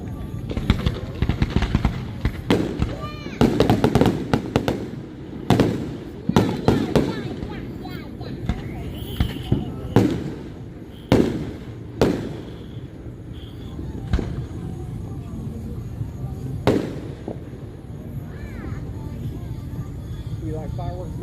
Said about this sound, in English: You like fireworks, Mel?